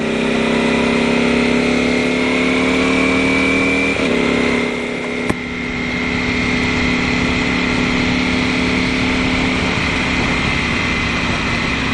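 A 2018 Ducati Panigale V4 Speciale sport motorcycle's engine pulls hard at high revs, its steady loud whine climbing through the gears with a brief shift dip midway.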